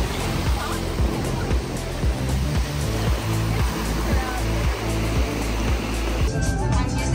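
Gulf waves wash onto Bradenton Beach in Florida at sunset, a continuous nearby roar of surf with a soft rhythmic pulse.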